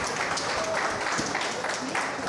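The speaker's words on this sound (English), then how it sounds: "a big round of applause" A crowd applauds steadily, a dense wash of clapping that continues without a break for a couple of seconds.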